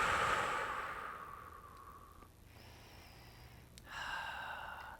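Slow, deep belly breaths during a tissue release near the sacrum, with a long airy exhale and then two fuller breaths; soft, close and quiet with no talking.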